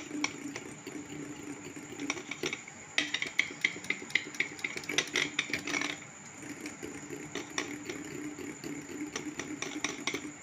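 Stirring of an ice cream mixture in a bowl, no-cook homemade style, with repeated scraping and clinking strokes of a utensil against the bowl, fairly close and steady throughout, with no talking.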